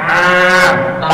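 A voice imitates a Central Java cow mooing: one loud, sustained, droning moo lasting about a second, heard up close and alone.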